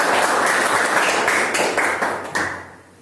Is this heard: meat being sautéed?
no